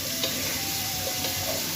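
Onions sizzling steadily in a pan for chicken sukka, a close and even hiss with faint stirring taps and no voices.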